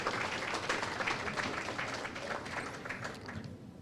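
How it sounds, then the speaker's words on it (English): Audience at an NDC Florida Chapter launch event applauds in a steady, dense wash of clapping that holds fairly evenly throughout, sounding somewhat distant and moderately quiet. "So South Florida, give applause for that too."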